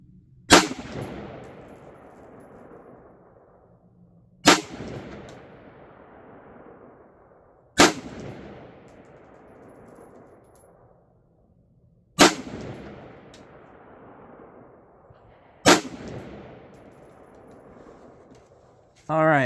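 Five sharp rifle shots fired while zeroing a Cvlife BearSwift 1-10x28 FFP scope, each a loud crack with a decaying echo, spaced a few seconds apart.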